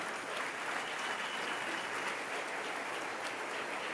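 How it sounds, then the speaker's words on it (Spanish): Steady, dense applause from a church congregation fills the whole span, a continuous wash of clapping that stays even in loudness and has no voices over it. "Denle un aplauso al Rey bendito."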